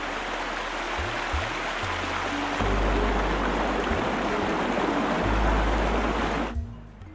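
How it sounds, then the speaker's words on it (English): Flood water surging as a raging torrent down a river channel in Samburu National Reserve, a loud continuous rushing roar with deep low rumbles, heard alone until it cuts off abruptly near the end. "Within minutes, the parched ground had become a raging torrent."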